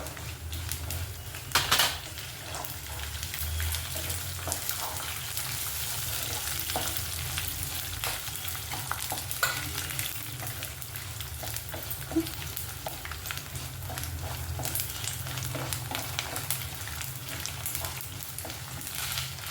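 A tadka of sesame seeds and garlic sizzles steadily in hot oil for cucumber pickle, with continuous crackling spatter and occasional stirring clinks, close and alone.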